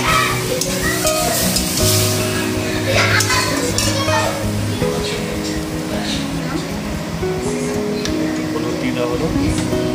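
Bottle gourd frying in a pan, with a loud continuous sizzle and occasional stirring scrapes, while a person talks over it and a low steady hum runs underneath.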